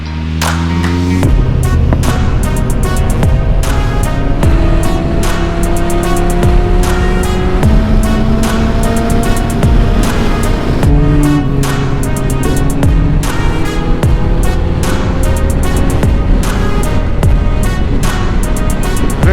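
A motorcycle rides over a cobblestone road on a trip toward the Carpathians, its engine droning loudly and continuously with rapid rattling bumps from the stones throughout.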